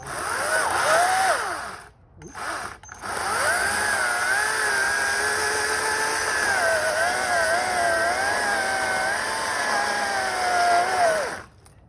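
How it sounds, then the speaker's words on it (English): A loud electric chainsaw whines steadily while cutting firewood, with a brief pause and restart early on, then a long continuous cut that wavers in pitch. "what you think of this electric chainsaw"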